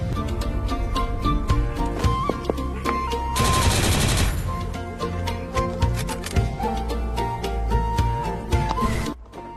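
Rapid gunfire from a video game, sniper and arsenal weapons firing in dense bursts, with a sustained loud volley in the middle, set over continuous game music and effects.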